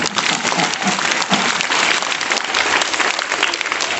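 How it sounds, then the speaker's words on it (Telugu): Children at a school assembly clap loudly and steadily, a dense, continuous burst of applause that holds at full strength for the whole stretch with no voices over it. "అప్పుడు గట్టిగా చప్పట్లు కొట్టండి"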